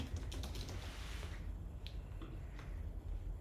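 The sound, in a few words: typing text on a computer keyboard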